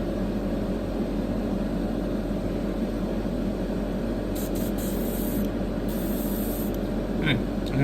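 An airbrush sprays paint onto a Tamiya 1:48 F4U-1A Corsair scale model, a steady close hiss running throughout, with brief higher bursts near the end.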